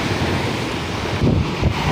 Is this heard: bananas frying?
no